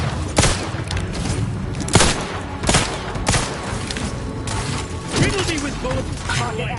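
Bursts of gunfire crack out repeatedly in combat in The Outer Worlds 2 on PS5, with loud sharp shots scattered over a dense, busy game mix.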